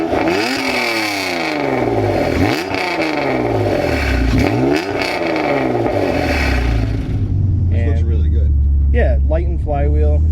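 Acura NSX fitted with Pride straight pipes and a stainless steel Pride V2 catback exhaust, revving loudly in repeated rising and falling sweeps close by, then settling into a rough idle with clattering bursts.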